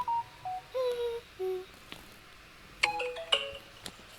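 A phone ringtone plays a short electronic melody of clean tonal notes, first a slow falling phrase, then a brighter cluster of chiming beeps, close and alone with no talking.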